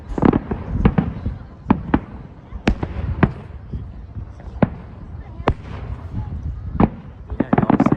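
Victoria Day fireworks burst over Ashbridges Bay in Toronto, a loud series of sharp booming explosions at irregular intervals, ending in a rapid crackling flurry, with crowd voices talking in between.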